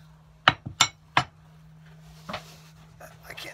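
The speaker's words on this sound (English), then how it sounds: "it's hammer time" Three sharp, ringing hammer strikes land in quick succession during leatherwork on a shoe, followed by quiet and a softer knock.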